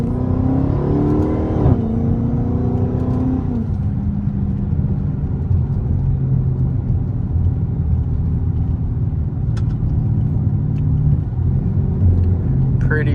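A Chrysler 300S fitted with a cold air intake and straight pipe, running SRT pages in track mode, accelerates with a loud, steady exhaust rumble that rises in pitch over the first few seconds, then settles into a sustained drone close by.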